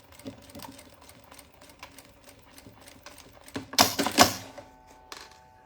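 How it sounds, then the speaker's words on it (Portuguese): A domestic sewing machine stitches a small seam with a presser foot, a quick, steady mechanical rattle of needle strokes, close and fairly quiet, with a louder, denser burst of clatter near the end. "vou colocar e vou fazer uma costurinha com um pé de máquina aqui"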